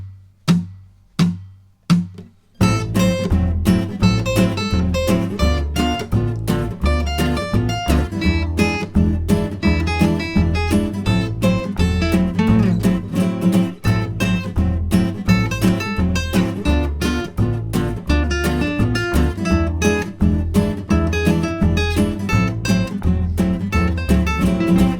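Guitar improvisation built on two-note chord shapes, opening with a few sparse plucked dyads before a steady, busy stream of strummed and picked double-stops runs throughout, close and continuous with no voice.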